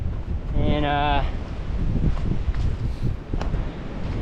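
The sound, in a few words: strong wind on ridge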